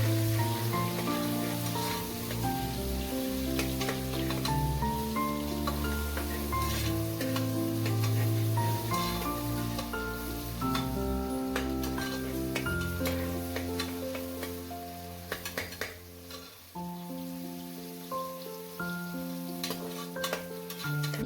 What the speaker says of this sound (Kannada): ಇದಕ್ಕೆ ಈರುಳ್ಳಿ ಎಲ್ಲ ಚೆನ್ನಾಗಿ ಫ್ರೈ ಆಗಬೇಕು